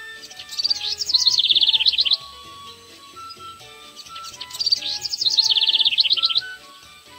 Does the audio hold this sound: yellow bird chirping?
yes